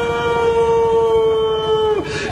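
A voice imitates a dog howling at night with one long, sustained, wavering howl that holds nearly level, then drops and breaks off near the end. It is close and fairly loud.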